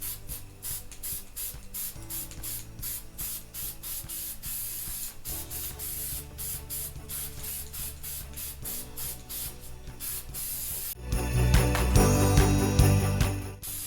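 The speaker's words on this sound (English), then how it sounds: "We're going to go ahead and start spraying our white spray paint on." A can of white spray paint hisses in a rapid run of short bursts onto a Christmas tree, then gives one long, louder spray near the end. It is close and there is no talking.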